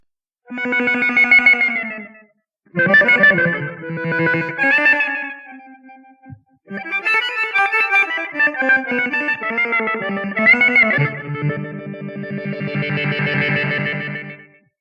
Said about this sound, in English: This is a Blackface Deluxe amp model with a pitch shift that's modulated by a low-frequency oscillator.